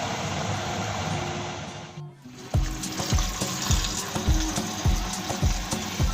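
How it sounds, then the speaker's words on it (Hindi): Boiled pasta poured into a colander: a steady rush of draining water and hiss, then a short pause followed by rhythmic knocks and splashes as the pasta is shaken and handled in the basket. "अब इसको हम चेक करके निकालते हैं टोकरी में"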